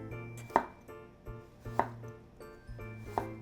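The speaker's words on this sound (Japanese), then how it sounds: "初めに斜めの薄切りにしていきます。" Knife slicing a carrot into thin diagonal pieces on a board, three distinct crisp chops spaced about a second apart, close and clear with no talk.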